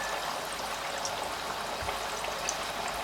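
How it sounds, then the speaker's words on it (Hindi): Bread kabab slices sizzle in hot oil over a high flame, a steady close hiss with light crackles and small pops, no talk. "और इसे अच्छे गोल्डन और क्रिस्प हो जाने तक इसको फ्राई करते हैं।"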